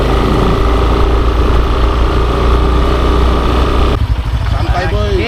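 A motorcycle engine drones steadily on a full steep downhill descent, loud and close with heavy rumble and wind, easing briefly near the end as other faint sounds appear.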